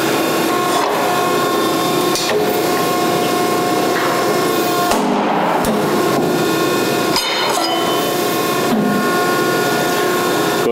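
Scotchman ironworker with an automatic measuring positioner running through a hole-punching cycle, giving a steady loud mechanical hum with heavy thuds and brief dropouts as the positioner moves between holes.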